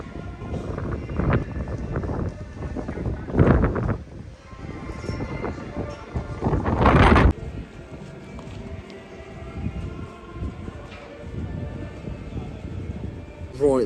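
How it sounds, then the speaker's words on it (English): Strong wind buffets an outdoor microphone on a road near a football ground on matchday, with heavy rumbling gusts swelling and fading in several bursts across the recording. "It's a very windy one, so I can only apologise if you can't hear me."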